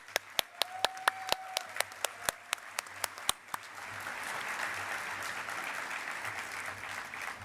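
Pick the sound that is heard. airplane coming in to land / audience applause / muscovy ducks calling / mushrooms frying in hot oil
audience applause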